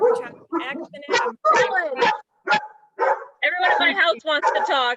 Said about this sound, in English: That was a dog barking.